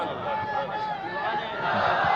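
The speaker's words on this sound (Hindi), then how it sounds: "भीड़ में से भी नारे आ रहे हैं।" A crowd shouts in unison at a religious speech gathering, a dense roar of many voices that swells slightly toward the end and continues without a break.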